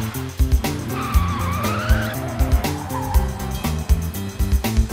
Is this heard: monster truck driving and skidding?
yes